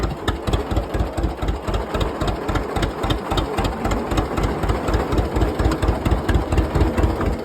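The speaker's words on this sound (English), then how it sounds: "It actually runs pretty good for a John Deere." A John Deere tractor engine runs steadily and close by, with a strong, even chugging pulse throughout and nothing else heard.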